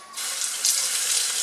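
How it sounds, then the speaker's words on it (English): Tap water gushes steadily into a sink, loud and close, flushing cleaned baby crabs with a continuous splashing rush. "then we'll give it a quick quick flush with the tap water"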